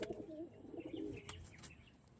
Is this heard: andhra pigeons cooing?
yes